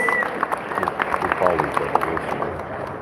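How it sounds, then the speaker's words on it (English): Audience applause at a crappie fishing tournament weigh-in, scattered clapping and cheers from a moderate crowd, with voices talking over it. "Let's give them a huge round of applause."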